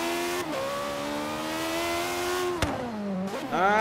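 BAC Mono V8 engine in the Forza racing game, a sustained high-pitched rev that holds steady, drops briefly near the end, then climbs again, loud and close with no talk.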